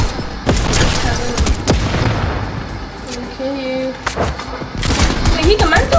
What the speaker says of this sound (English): Of course I have to get shot.